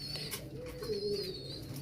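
Pigeons coo in a breeding loft holding paired birds with young, a big black-faced male among them; a soft, low, rolling coo swells near the middle over a steady background of more distant cooing.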